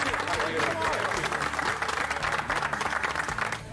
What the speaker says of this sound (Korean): 함께 해주신 고든 램지에게 다시 한번 감사의 박수 부탁드립니다